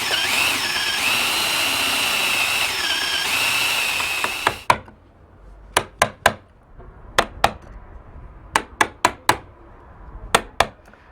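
A mortise for a latch box cut into a door edge. A power tool runs steadily for a few seconds, then sharp chisel blows and taps follow in small irregular clusters, close and crisp.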